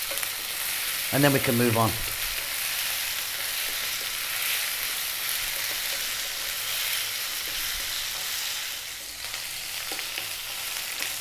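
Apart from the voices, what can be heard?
stir-frying potatoes and spinach in a pan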